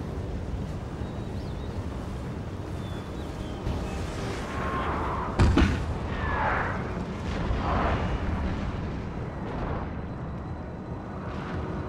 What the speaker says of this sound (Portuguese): Esse é o melhor lugar pra usar canhão.